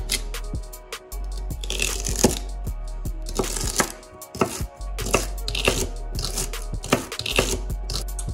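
A knife chops onions on a board for spaghetti bolognese, with sharp close cuts coming in quick irregular bursts and short pauses, steady and alone with no talk.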